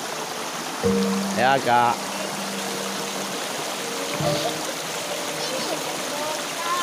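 Fast-flowing mountain stream on a forest trail up Mount Seulawah Agam, a steady, moderate rush of water that runs throughout, with short bits of talk over it.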